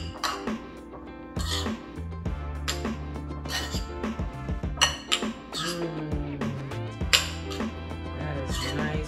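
Repeated clinks and scrapes of a utensil against a dish as butter is mashed into a scooped-out baked potato for a seafood baked potato, with steady tonal music underneath throughout.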